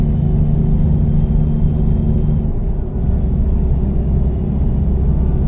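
A truck engine idles in American Truck Simulator, a loud, steady low rumble that shifts slightly in tone partway through and then keeps droning on.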